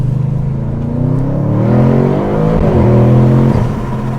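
An Audi RS7 tuned to about 1001 horsepower pulls hard on an autobahn at night, its engine note rising and swelling loudly and steadily through the gears from inside the car.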